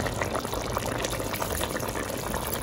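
Water pours steadily into a pot of Jamaican curry chicken, a continuous splashing, bubbling rush that stays close and fairly loud throughout with no talk.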